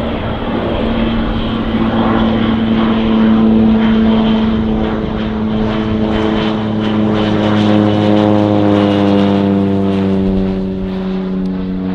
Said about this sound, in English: there is a spraying airplane that you will see about to fly over